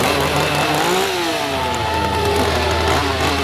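A chainsaw roars in the Lycan Landing werewolf scare zone at Howl-O-Scream 2020, Busch Gardens Tampa Bay: a loud, close, continuous engine drone that wavers in pitch as it revs.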